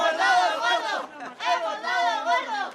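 Spanish Christmas lottery winners cheering joyfully: a group of voices shouting and whooping in loud, sustained bursts with a short break between them.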